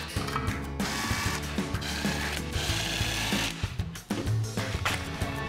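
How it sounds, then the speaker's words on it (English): A 5/16 socket ratchet backing out the propane regulator mounting bolts on a Coleman pop-up camper storage box, heard as a steady, fast metallic clicking up close, with a brief break near the end. "Now with a 5/16 socket, remove the regulator bounding bolts."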